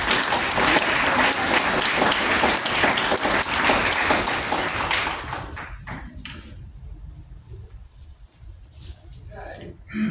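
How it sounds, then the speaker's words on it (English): Loud, dense audience applause for a lifetime award recipient at a ceremony fills the first five seconds, then thins out and fades to near quiet, with a brief bump at the very end. "please join me in a round of applause for Dr."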